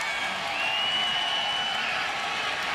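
A football stadium crowd at a 2010 preseason game between the Packers and the Chiefs, played at Kansas City, gives off a steady, loud, continuous roar that holds level for the whole stretch without a break.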